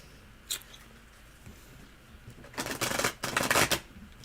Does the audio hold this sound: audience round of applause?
no